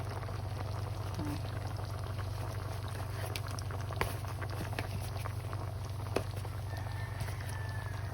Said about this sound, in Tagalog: bubuhos na natin yung slick cream kasi kumulo na